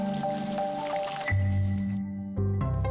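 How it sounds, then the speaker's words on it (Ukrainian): Filtered water is poured into a low, wide ceramic dish holding a kenzan pin holder, making close, wet splashing and dripping sounds against a tonal background. "Далі поставте кензан на дно і додайте фільтровану воду."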